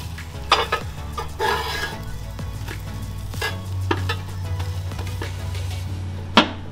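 French toast and bacon sizzling on a Weber Q1200 gas grill, a steady close hiss broken by several sharp scrapes and clanks of a utensil turning the food.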